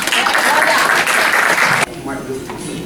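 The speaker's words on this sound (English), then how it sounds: "Please give a round of applause" An audience welcomes a guest speaker with brisk, loud applause that cuts off abruptly partway through, leaving a quieter room with faint scattered sounds.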